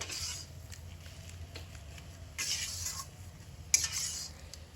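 Egg mixture with salt being stirred in a bowl for egg paratha, a soft, steady scraping swirl with a few brighter clinks, close and quiet with no talking.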